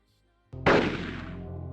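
A gunshot in the video game Silent Hill, fired by a police officer: one sharp, loud blast after brief near-silence, with a booming tail that lingers.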